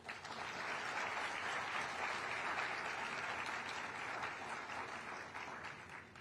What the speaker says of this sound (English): Please join me in a round of applause in recognition of all the competitors and their tireless efforts.